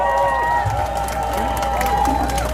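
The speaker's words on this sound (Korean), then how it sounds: "큰 박수로 맞이해 주시기 바랍니다." Crowd at an outdoor political campaign rally in Nampo-dong, Busan, clapping and cheering loudly over a sustained tone and a low hum, with voices mixed into the noise.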